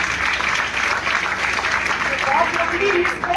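An audience at a coaching-centre book launch claps continuously for the whole moment, a dense, even patter of applause that fills the room.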